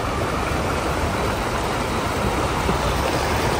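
A winter mountain river rushes steadily over its bed, a dense, even wash of flowing water that holds constant from start to finish with no voices.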